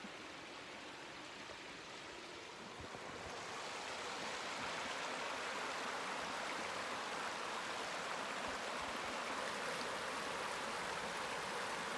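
Home Quarry Creek flows outdoors in Virginia's Shenandoah Valley, a steady broad rush of water that swells slightly louder after a few seconds and then holds, with no voices.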